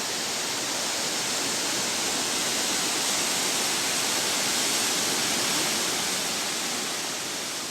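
The Ontika Landscape Reserve waterfall in Estonia roars in a dense, unbroken hiss of falling water, loud and constant throughout with no other sounds.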